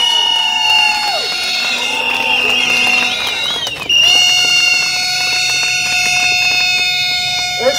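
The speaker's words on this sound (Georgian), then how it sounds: "ერთი კიდე აქედანაც გავავხნევოთ ჩვენი თბილისელი თანამებრძოლები ძლიერი ტაშით" A street protest crowd at night in Batumi cheers and applauds, loud and continuous, while a shrill whistle or alarm-like tone sounds over it the whole time.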